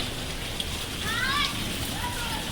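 Heavy monsoon rain pours down steadily as a dense, even hiss, with a few faint chirps high above and distant voices in the background.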